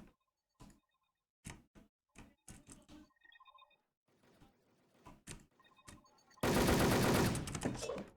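Gunfire in an online clan-match video game shooter: several sharp separate shots at first, then a loud, dense burst of rapid automatic fire near the end, with no talk.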